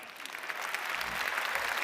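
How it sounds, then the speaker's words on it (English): Brief applause from a lecture audience for an Ig Nobel Prize winner, a moderately distant, steady patter of many hands clapping. "Applause for Dan."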